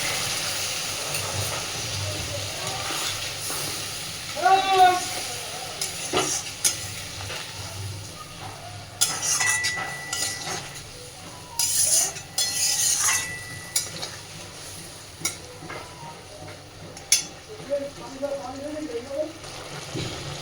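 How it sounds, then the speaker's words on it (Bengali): Egg curry being stirred in a pan, with fried eggs, potato and green chilli paste added: a spoon scrapes and clinks in soft, irregular strokes over a quiet simmering sizzle throughout. "একটু নাড়াচাড়া করে নিচ্ছি"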